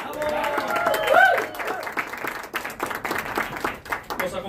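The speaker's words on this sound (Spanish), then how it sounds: "Otro aplauso para nuestro Omar Fierro." Studio audience applause at a television season launch event for a Mexican TV series, a steady crowd clapping with whoops, swelling briefly then continuing fairly evenly throughout.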